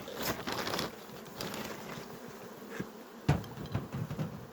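Bees buzz steadily up close, a dense droning hum with scattered taps and rustles mixed in.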